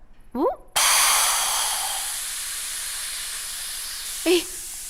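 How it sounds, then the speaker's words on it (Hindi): A pressure cooker whistle: a loud, steady jet of hissing steam starts abruptly and keeps blowing for several seconds, with brief voice-like sounds before and near its end. "कुकर की सीटी बज गई"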